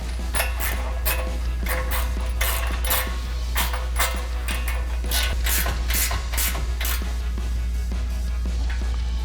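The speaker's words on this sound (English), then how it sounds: "grab our 19mm ratcheting wrench, and go ahead and tighten that down" A 19mm ratcheting wrench tightening a bolt on a heavy-duty bumper of a Jeep Wrangler YJ, giving a rapid run of close metallic ratchet clicks over a steady low hum.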